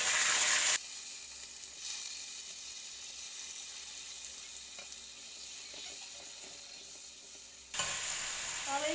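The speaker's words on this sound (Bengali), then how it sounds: "এবার আমি চিকেনটা দিয়ে দেবো।" Chicken added to a hot pan with dried chillies, bay leaves and whole garam masala for biryani, sizzling and frying steadily with faint stirring clatter; louder kitchen noise at the start and end.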